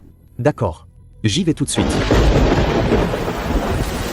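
Heavy rain pours in a loud, steady roar during a mountain-village thunderstorm, starting right after a few short spoken lines and then continuing alone without a break.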